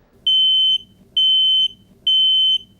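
A household smoke alarm gives three loud, piercing electronic beeps, each about half a second long, in a steady evenly spaced pattern, alone over a faint low hum.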